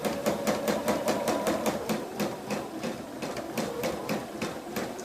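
A sewing machine stitching a quarter-inch quilt seam, its needle hammering in a fast, even rhythm that runs steadily throughout, close and moderately loud.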